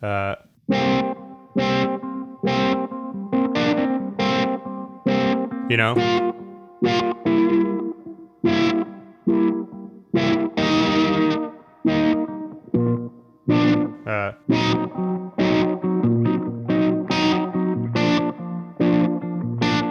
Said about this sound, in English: Like that's just fuzz with that same filtery sound